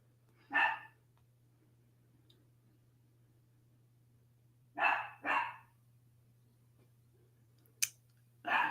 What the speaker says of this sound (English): pardon my dog barking downstairs.